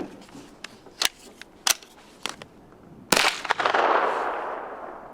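A KelTec Sub2000 folding rifle clicks and clacks as it is unfolded and charged, a few sharp mechanical snaps, then a single loud shot followed by a fading echo.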